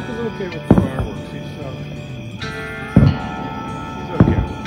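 Fireworks going off at night near a Smoky Mountain cabin, three sharp booms spaced a second or two apart against a steady background hum, with people talking softly in between.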